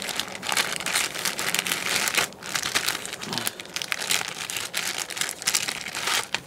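Steady crinkling and rustling as items come out of a huge plastic bag of mail, continuous and close, with no speech.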